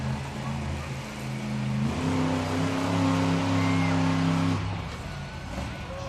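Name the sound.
Triceratops monster truck engine during a nose wheelie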